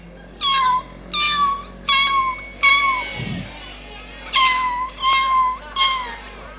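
A voice imitates a kitten during a sermon in Subang, giving a string of high, thin mews in a steady rhythm over a faint crowd murmur, with a brief low thump midway.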